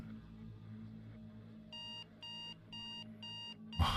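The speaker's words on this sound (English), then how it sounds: "The alarm blared, a jarring intrusion." An alarm clock rings in a story scene, four evenly spaced bursts of bright electronic beeping over a low room hum, ending in a louder rustling thump.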